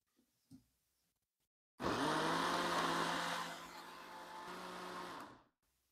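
After a couple of soft clicks, a blender roars to life loudly mixing gluten-free cheese cake batter with baking powder, running for about three and a half seconds, its pitch shifting slightly before stopping.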